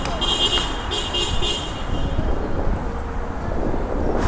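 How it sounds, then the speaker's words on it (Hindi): A public transport vehicle sounds its horn on a South African street: a few short, fairly loud honks near the start, set against steady traffic rumble. "पता नहीं हॉर्न की मतलब क्यों बजा रहे हैं"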